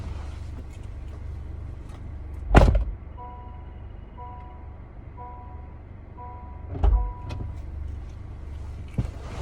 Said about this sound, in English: I just tried to lock the door while I was outside the car while it was running.